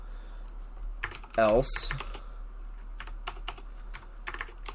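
Shader code is typed on a computer keyboard as a quick scatter of light key clicks, heard close after a brief spoken word, with a steady low hum underneath.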